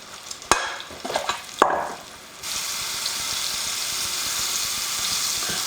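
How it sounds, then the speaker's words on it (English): A few clattering knocks, then a loud, steady sizzle of moose meat frying in hot fat, close and continuous. "There's a nice little sizzle now."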